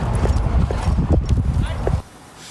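Horse hooves clip-clopping in a steady quick rhythm, with a faint whinny, heard close under a voice speaking. Set around preparations for the Canadian Derby horse race at Century Mile Racetrack near Edmonton.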